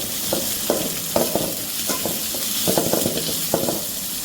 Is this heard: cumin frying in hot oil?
yes